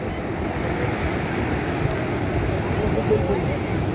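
A boat runs at speed across ocean waves at sea, bringing a steady wash of surf and wind roar with rushing water noise at an even, fairly loud level from start to finish.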